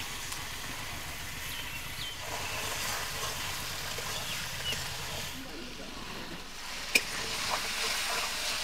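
Chicken meat browning with spices in a pan over a wood-fired clay stove, giving a steady close sizzle with stirring scrapes, partly overlaid by voices and low rumbling background noise.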